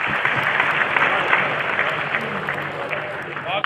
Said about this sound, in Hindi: मेरे साथ अपनी तालियों की गूंज शामिल कीजिए।